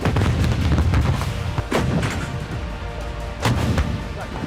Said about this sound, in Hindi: रूस की आर्टिलरी यूनिट ने यूक्रेन पर भीषण हमले में MSTAS और MSTA-B का भरपूर इस्तेमाल किया।